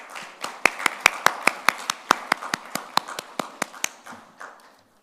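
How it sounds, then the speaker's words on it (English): Audience at an Indian Union Budget 2023-24 impact analysis event applauding as a speaker is welcomed on stage: sharp, fairly sparse claps ringing out across a room, steady then thinning out and fading near the end. "please join me with a big round of applause to welcome Mr."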